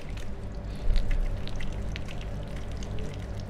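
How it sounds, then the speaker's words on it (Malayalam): Tap water runs steadily while hands are washed with soap, a continuous splashing pour with no talking. "ഓരോ കൈൻ്റെ ആയിട്ട് റിസ്റ്റ് കഴുകുക"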